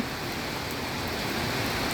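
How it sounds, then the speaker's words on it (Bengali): Steady rain falls under a clear, cloudless sky in a hilly region after a long heat wave, making a continuous even hiss at a constant level with no breaks or distinct drops. "বৃষ্টি ঝরছে মেঘ ছাড়াই।"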